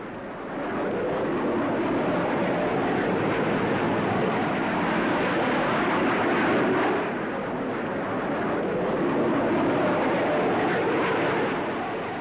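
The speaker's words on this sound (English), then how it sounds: "Finally, to round off this great show, the Hawker Hunter." A Hawker Hunter jet aircraft roars past at the 1955 Farnborough Air Show, a loud sustained broadband engine rush that swells and holds for several seconds, with no talking over it.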